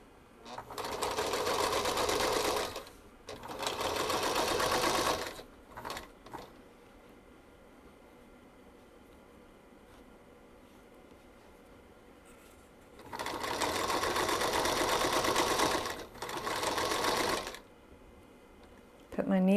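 A sewing machine stitching fabric for a project bag: two bursts of fast, whirring stitching, a pause with small clicks as the fabric is turned, then two more bursts, close and steady.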